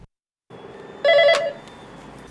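A telephone rings on an immigrant service hotline, where a native-language operator answers calls, with one short loud burst of ringing standing out from steady room background.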